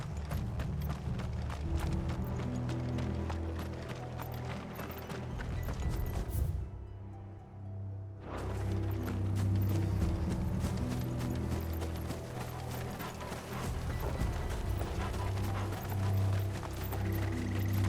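Steady clip-clop of galloping horses in the video game Final Fantasy XVI, with clattering hooves and mechanical rattling, cutting out for a moment before the rapid pounding resumes.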